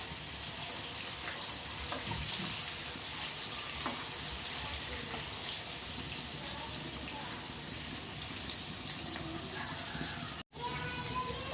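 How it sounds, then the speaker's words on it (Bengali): Hilsa fish pieces frying lightly in a pan give a steady, loud broadband sizzle that holds through the whole stretch, broken only by a brief dropout near the end. "মাছগুলোকে বেশি কড়া ভাজবো না, হালকা ভাজা দিব একদম।"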